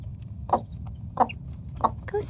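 A mother hen in a coop gives three soft, evenly spaced clucks, then a short final call, each one close and clear over a low background rumble.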